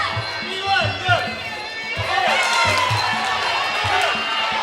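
Crowd at an amateur women's boxing bout at Grand West cheering and shouting, a loud, continuous roar with rising surges, heard under a commentator's voice.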